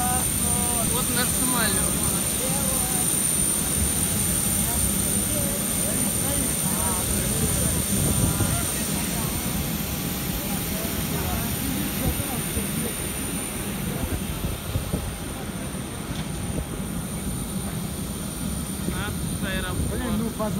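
Steady aircraft cabin hum and engine drone while passengers board a plane, continuous and moderately loud, with people talking nearby throughout.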